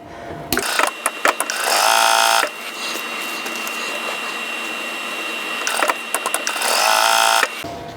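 A sewing machine stitches quilt squares together along a drawn line in two loud, steady runs of rapid mechanical whirring. A quiet pause separates the runs, and sharp clicks mark the start and end of each, close by.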